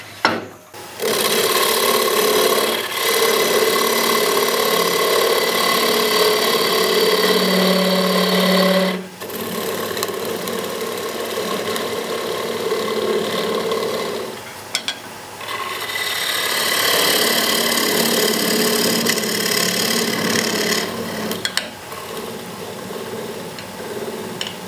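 Wood stock being drilled on a lathe during a turning and carving demonstration, giving a steady, loud grinding whir that runs continuously with a brief dip in the middle, alone without talk.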